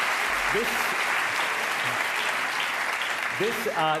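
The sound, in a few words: audience applause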